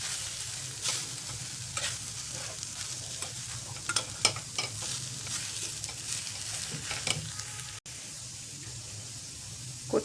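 Vada filling with coarse coriander seeds being stirred in a pan, a steady scraping and gentle sizzle running continuously with scattered sharper spoon clicks, close and moderately loud.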